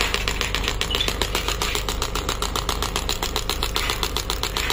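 A pneumatic compression machine runs steadily, its close, loud mechanical hum carrying a fast, even pulsing throughout, with no voices.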